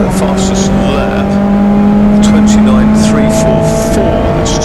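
Ford Puma Cup race cars at Donington Park run down the start-finish straight, engines droning loud and close with a steady tone and overlapping passes, voices talking over them.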